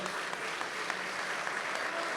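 Sustained applause for a track team honoured at a school sports awards event, a dense, even wash of many hands clapping, steady and moderately loud from start to finish.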